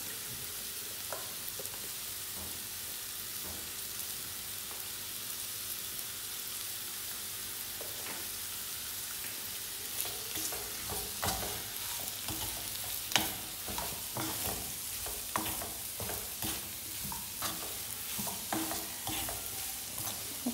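Ingredients for an appam dish are sautéed in a pan until their raw smell goes. A soft, steady sizzle runs throughout, and from about ten seconds on a spoon scrapes and stirs in irregular strokes, all quiet and close with no talking.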